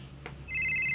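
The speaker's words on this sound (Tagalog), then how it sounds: "Agriring ti cellphone ko." A cellphone bursts into an electronic ringtone after a brief quiet moment, its bright, steady tone sustained and fairly loud.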